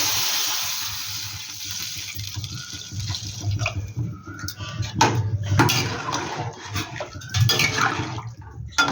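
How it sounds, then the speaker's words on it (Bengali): Water pours into a cooking pot for a recipe made with mango, a steady rushing stream that swells and gurgles as the pot fills, close and fairly loud. "এবার আমি জল দিয়ে দেবো, একটু বেশি জলটা দেবো কিন্তু"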